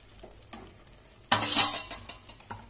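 Tomato pickle simmering in a pan, with a burst of stirring, bubbling and scraping against the metal, followed by several short clinks and spoon knocks close by.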